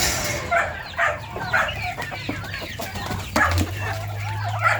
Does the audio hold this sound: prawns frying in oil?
no